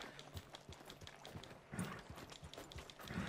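Horse hooves clip-clop in Red Dead Redemption 2, a steady run of light, evenly spaced thuds at moderate distance, with a few heavier beats toward the end.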